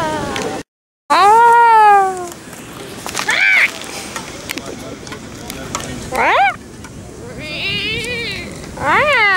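Several rising and falling meows from a cat, loud and close, come in short bursts with pauses between them, over a busy background with some speech.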